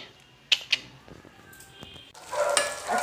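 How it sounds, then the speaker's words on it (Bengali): Onions fry in a pan. A couple of sharp utensil clinks come first, then a soft, steady sizzle swells up and holds through the last second, fairly close. "পেঁয়াজটা একটু ভেজে নিচ্ছি"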